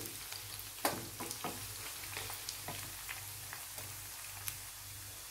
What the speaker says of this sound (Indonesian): baru kita masukkan bawang merah dan bawang putih ya. Lalu goreng sampai harum bersamaan dengan ayamnya.